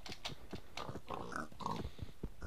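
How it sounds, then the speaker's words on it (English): Several pigs in the Minecraft video game grunt and oink in quick overlapping bursts, close and fairly quiet, with no talking. "Why is there so many pigs?"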